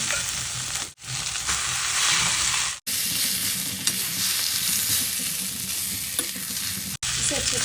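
Kachori stuffing with a pinch of turmeric sizzling loudly in hot oil in a pan, stirred with a continuous scraping hiss, close up, broken by a few brief pauses and with no talking.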